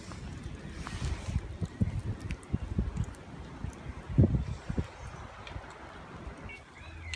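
Gusty wind buffeting a microphone at a riverbank camp, irregular low rumbling blasts with rustling, fairly faint and without talking.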